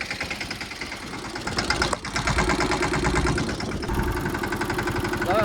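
A diesel tractor engine idles close by on a farm near the Gir forest in light rain, with a steady low rumble and rhythmic knocking, briefly dipping around the two-second mark before resuming.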